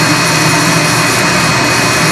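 An IKAWA home coffee roaster starts up with a steady, loud, close fan roar like a small jet, constant and unbroken, with no voices.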